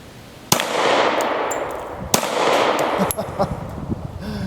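Sharp, loud pistol shots from an FN Five-seveN aimed at a coconut hanging outdoors, two clear cracks about a second and a half apart with ringing decay, followed by a fainter third pop and light rustling.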